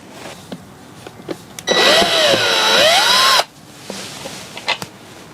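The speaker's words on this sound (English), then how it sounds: "It's a little bit of a hard angle with this drill, but we're doing it." Power drill unscrewing screws from a chair during re-upholstery, one loud whirring burst of nearly two seconds with a pitch that rises and dips, framed by quieter clicks and handling noises.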